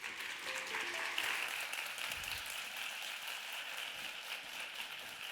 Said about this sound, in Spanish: con vosotros y con un fuerte aplauso